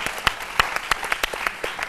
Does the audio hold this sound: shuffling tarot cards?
no